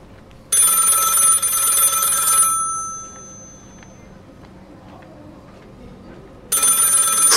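A telephone bell rings in an audio drama, two loud bright bursts several seconds apart, with quieter room tone and faint sounds between them.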